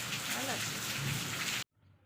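Rain falls steadily outside a house in a broad, close hiss, with a voice talking over it before the sound cuts off abruptly near the end, leaving quiet room tone.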